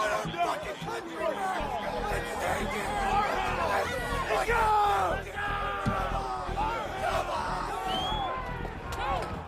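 Crowd of Proud Boys at the Capitol being riled up, a dense hubbub of chatter and overlapping shouts with occasional yells and whoops, loud and continuous throughout.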